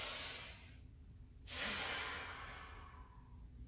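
Deep breaths through the nose during a gong-accompanied workout, heard as a long, loud nasal inhale that tapers off, a short pause, then another strong, hissing intake of air that slowly fades.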